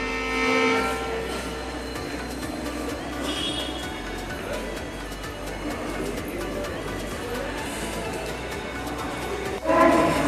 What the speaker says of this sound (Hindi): ये पटना जंक्शन, यहाँ से आप भारत के किसी भी कोने पे ट्रेन पकड़ सकते हैं।